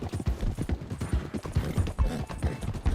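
Horse hooves clip-clop in a video game, a loud, steady rhythmic trot of close hoofbeats continuing throughout with no talking over them.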